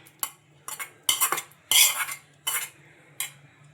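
Batter with radish is stirred in a bowl with a spoon, producing several separate bursts of scraping and clattering against the sides, divided by short quiet pauses. The sound is close and there is no talk.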